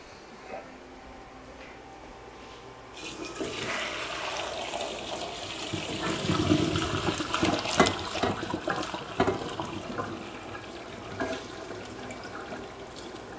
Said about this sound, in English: And I'm going to drain the noodles.